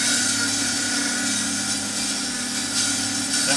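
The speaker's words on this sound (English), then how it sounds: "all I will do is turn the crank, driving this plate that way and then into it." An ornamental lathe turned by a hand crank cuts into cocobolo wood with a steady, close, continuous rasping scrape that holds an even level throughout.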